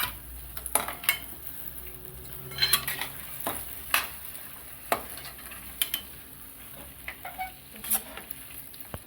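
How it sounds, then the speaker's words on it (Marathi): Peas and paneer stirred into spice masala in a pan, soft sizzling beneath sharp intermittent clinks and scrapes of a spoon against the pot, fairly quiet and close. "आता आपण त्यामध्ये परत मटार हे वटाणा परतून घेऊ आणि पनीर पण परत थोडंसं मसाल्यात परतून घ्यायचं"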